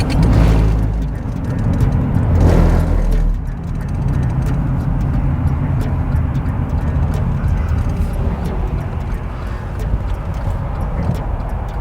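Road traffic passing along a busy road near a billboard, a continuous loud rumble of vehicles with a stronger swell early on, steady throughout without pauses.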